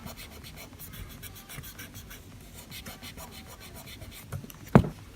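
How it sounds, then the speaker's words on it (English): Soft graphite pencil shading on paper for a nose drawing, blended gently with a fingertip: a steady low scratchy rubbing that continues evenly, ending in one brief louder scrape near the close. "Not drawing lines, just gently shading down."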